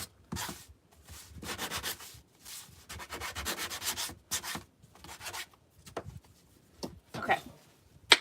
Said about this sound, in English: we are going to take our sander and I'm just going to distress this